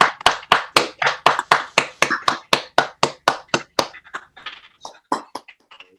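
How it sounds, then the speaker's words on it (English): Participants in a virtual meeting clap over their microphones, a run of sharp, evenly spaced hand claps that start loud and regular, then grow fainter and more scattered as they trail off. "we could have everybody turn on their microphones, and we're going to give Mike a well-deserved round of applause."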